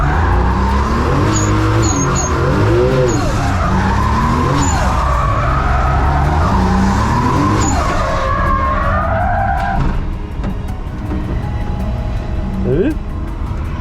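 A Toyota 2JZ engine over-revs during a deliberate engine-destruction test, its loud, close revving climbing and falling in wavering sweeps while people talk over it, before it settles into a rougher, lower tone near the end.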